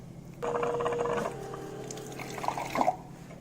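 Water runs from the nozzle of an air-to-water dispenser in a steady, faint trickling stream that starts suddenly, then eases into a lighter flow with a few splashy drips near the end, with no talk.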